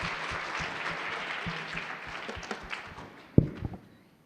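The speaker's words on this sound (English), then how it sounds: "A round of applause for She Included." Steady crowd applause at a venture competition fills the space, dense clapping that fades toward the end, with one sharp knock near the close.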